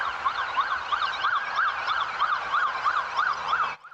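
A police or emergency vehicle siren wails through a park in Champaign during a chase, a rapid repeating rise-and-fall tone, steady and fairly loud, cutting off abruptly near the end.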